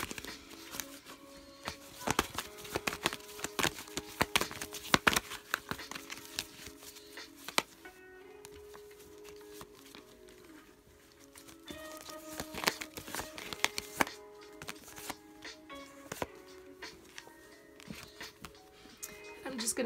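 Tarot cards are shuffled by hand close up, with irregular bursts of riffling, slapping and crinkly card noise over about twenty seconds, pausing briefly midway.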